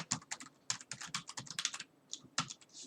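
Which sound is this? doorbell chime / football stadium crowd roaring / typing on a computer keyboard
typing on a computer keyboard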